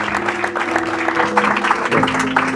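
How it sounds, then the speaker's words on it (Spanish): Loud congregation applause in a Spanish-language church service, dense continuous clapping filling the hall, with voices and a sustained tone underneath. "Aplauso fuerte."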